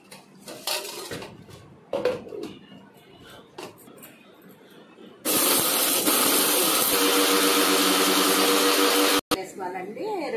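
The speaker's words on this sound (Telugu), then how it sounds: "మిక్సీ పెడదాము" Clinks and clatters of a mixie jar being loaded for curry leaf podi come first, then the mixer grinder starts with a loud, steady whirring roar that stops abruptly and restarts briefly.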